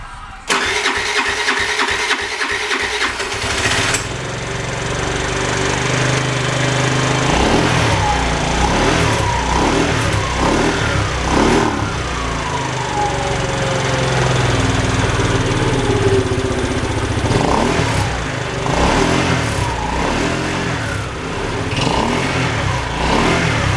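A four-stroke scooter engine with worn piston and cylinder parts, burning oil after about 12,000 km since its overhaul, cranks and fires, then runs steadily and loudly close by with some revving, no voices.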